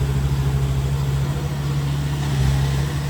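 A Kubota DC70 combine harvester's engine runs steadily in a field, a loud, constant low droning hum with an even mechanical texture and no voices.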